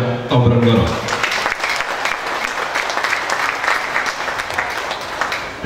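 A crowd at the declaration and inauguration of the new Laskar Tombronegoro board breaks into loud, sustained applause, dense clapping that follows a brief spoken phrase at the start and carries on steadily to the end.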